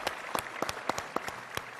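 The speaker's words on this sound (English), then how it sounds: "let's give a warm round of applause for State Senator Ellis" Applause from a conference audience for a newly introduced state senator, a short burst of scattered, uneven hand claps at moderate distance, filling the whole moment with no talk.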